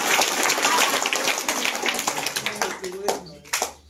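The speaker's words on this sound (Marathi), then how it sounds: "तिच्यासाठी टाळ्या वाजवणे." An audience at a village school gathering claps in a burst of applause, loud at first then thinning out into scattered claps, with voices talking over it.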